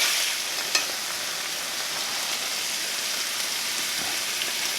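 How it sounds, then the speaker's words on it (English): Tomatoes, tomato paste and peppers simmer for ratatouille, giving a steady close sizzling hiss with an occasional soft stir or tap and no talk. "the tomatoes have been cooking with the tomato paste and the peppers for a little while now"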